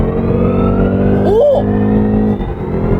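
BMW 530e plug-in hybrid sedan under full throttle in sport mode, heard as a steady, droning engine note rising as it pulls, with a short vocal exclamation partway through.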